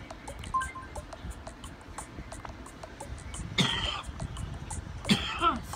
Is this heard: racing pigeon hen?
no